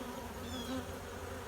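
Honey bees buzzing around an opened Layens hive during an autumn inspection, a close, continuous insect drone with individual bees swelling briefly louder as they pass.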